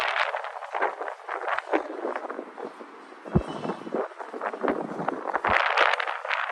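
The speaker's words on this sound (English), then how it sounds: "The wind is really picking up, so my apologies." Gusty wind on the downtown waterfront in Louisville, Kentucky buffets the microphone in rough, uneven bursts, loud and close, with rumbling low thumps throughout.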